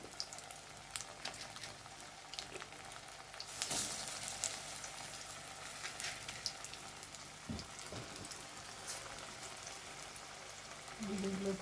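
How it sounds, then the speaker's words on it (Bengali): Food frying in a pan in a home kitchen gives a faint, steady sizzle and crackle with scattered pops, a louder burst partway through, quiet throughout. "ভেজে নিচ্ছি।"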